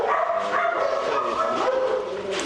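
Rescue dogs bark and yip throughout a kennel dormitory, with overlapping barks from several animals continuing loudly for the whole stretch.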